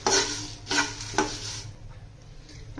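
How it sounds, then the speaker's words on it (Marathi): Green chillies, garlic and curry leaves hitting hot oil with whole spices for sukkha chicken masala, three loud bursts of sizzling as ingredients drop in and get stirred, then a quieter steady frying hiss. "आता त्यात मिरची टाकायची आहे आणि त्याबरोबर लसूण आणि कढीपत्ता टाकायचा आहे आणि तो चांगला भाजून घ्यायचा आहे"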